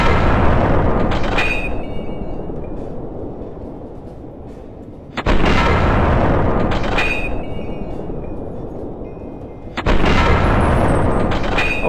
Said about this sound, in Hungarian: kilőttem a kezéből a fegyvert. Na, még van három lövésem.